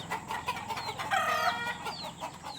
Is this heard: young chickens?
yes